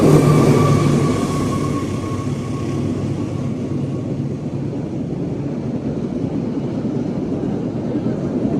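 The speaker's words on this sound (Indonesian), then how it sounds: "ini ada kereta api yang akan melintas langsung" The Harina train from Surabaya Pasar Turi to Bandung runs straight through Haurgeulis station without stopping, a loud, close, steady rumble with a fading high tone near the start and no voices.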